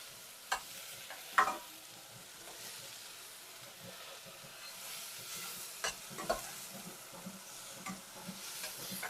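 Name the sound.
onion sautéing with garlic and ginger in pan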